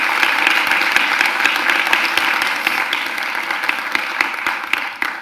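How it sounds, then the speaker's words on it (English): A big warm round of applause for a guest at a UCL talk, loud, close, dense clapping from the audience that holds steady and thins slightly toward the end. "Let's have a big warm round of applause for her"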